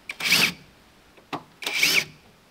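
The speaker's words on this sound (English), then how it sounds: "At this point, I can remove my support screws down here." A power drill backs out support screws from OSB wall sheathing on a workshop build, with two longer whirring bursts around a short blip, close by and with no talk.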